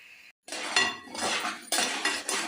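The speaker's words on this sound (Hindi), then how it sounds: "यहाँ मैंने लो फ्लेम पे सूजी को फ्राई किया।" Semolina for halwa frying on low flame, stirred in a pan: repeated bursts of scraping and metallic clinking from the spoon against the pan, with a brief silence near the start, no voices.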